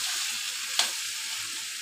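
Vegetable curry frying in a pan with salt and turmeric, a steady broadband sizzle holding evenly throughout with one brief louder crackle or stir near the middle, no voices.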